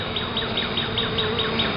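Honey bees buzz steadily at an open hive during an inspection, a close, continuous drone with small pulsing swells and no voices.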